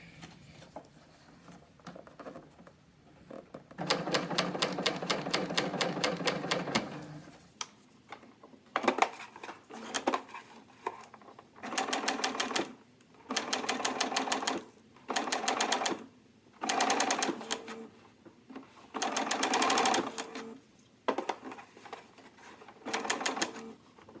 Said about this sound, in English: Make sure you sink your needle before you start stretching, or you'll just pull it right out from underneath the foot.